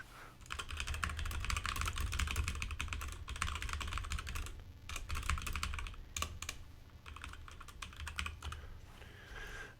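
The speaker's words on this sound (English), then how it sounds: "so people stop complaining that they're hearing my mechanical keys" Rapid, continuous clacking of a mechanical computer keyboard fills the room, keys struck in busy uneven bursts with short pauses, close and clear, with no voices.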